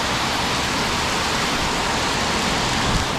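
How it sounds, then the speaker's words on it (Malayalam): Heavy rain in Thailand pours in a dense, unbroken roar, loud and close, with no voices over it. "ഇപ്പോൾ നിലവിൽ ഇവിടെ മൊത്തത്തിൽ നല്ല മഴയാണ്"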